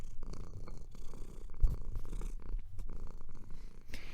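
A domestic cat purrs close up with a soft, continuous low rumble, steady and fairly quiet throughout.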